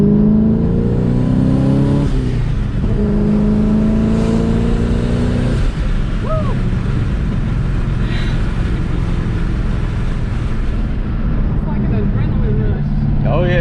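Saleen car with a stick shift accelerating from inside the cabin, engine drone climbing in pitch, a shift around two seconds in and another later, loud and steady, with voices talking over the engine.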